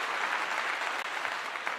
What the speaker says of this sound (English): let's give him a big clap